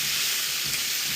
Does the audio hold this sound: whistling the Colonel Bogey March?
no